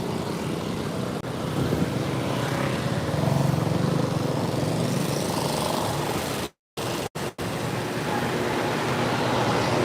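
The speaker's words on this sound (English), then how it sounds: "I hate people that take their vehicles and they try to make them really loud" A loud, rough engine roar from a modified vehicle rises and lingers as it passes nearby on a highway in the Philippines, with constant traffic noise and brief dropouts partway through.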